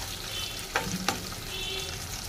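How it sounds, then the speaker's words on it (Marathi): Tamarind chutney sautéing in a pan, a continuous oily sizzle with two sharp clinks of a spoon against the pan partway through. "छान असं परतून घ्यायचं आहे."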